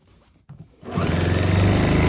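A sewing machine top stitching fabric starts after a couple of brief handling knocks, then runs as a steady, close, rapid mechanical whir.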